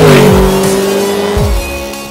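A Mercedes SLS AMG drives on a racetrack in Las Vegas, its engine roaring loud and close with quick gear shifts and pitch sweeps.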